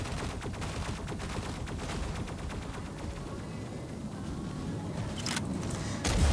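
Continuous gunfire in Mech Arena, a dense unbroken stream of rapid shots at steady loudness with a few sharper bursts near the end.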